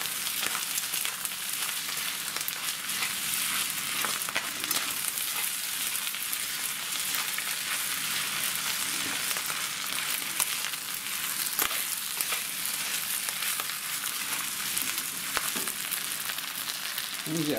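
Rice frying in a pan with teriyaki sauce, a continuous close sizzle with occasional stirring scrapes and soft clicks throughout.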